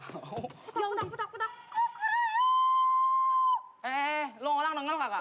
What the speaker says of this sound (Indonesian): Oh suara ayam